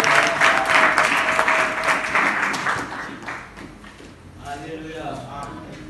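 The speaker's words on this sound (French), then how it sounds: "Est-ce que tu peux applaudir pour la parole de Dieu?" Church congregation applauding, a loud dense burst of clapping that gradually thins out, with voices and a sustained tone underneath as it fades.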